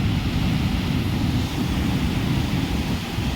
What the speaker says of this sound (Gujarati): આ દરિયો આવું ફૂલ મોજા મારે